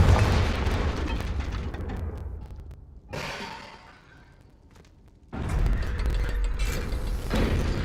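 Confringo fire spell blasts in the video game Hogwarts Legacy: loud, crackling bursts, then a quieter, dimmer stretch, then another strong blast rumbling on to the end, with no talking.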